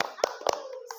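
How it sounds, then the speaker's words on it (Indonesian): Children clap in a kindergarten classroom, a few sharp claps in quick succession close by, mixed with young voices calling out. "tepuk semangat dulu Izam"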